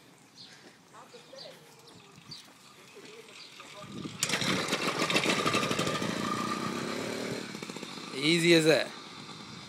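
An 80cc two-stroke engine on a motorized beach cruiser bicycle, bump-started while pedaling, bursts into a loud buzzing, rapping idle after quiet handling sounds, with a sharp rev near the end and a brief spoken remark before it starts.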